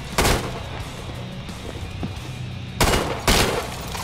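A Kalashnikov rifle fires in the Killing Floor 2 video game: one loud burst near the start, then two more sharp bursts close together near the end, over a steady background rumble.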